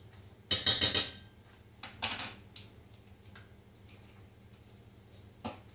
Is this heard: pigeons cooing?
no